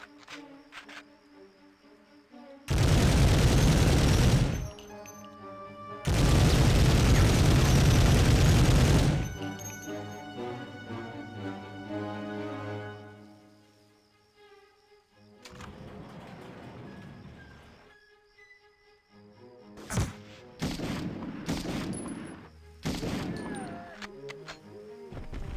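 Mounted gun firing in Medal of Honor on PS1: two long, loud sustained bursts of heavy gunfire, followed by quieter game music and sporadic shorter bursts and booms later on.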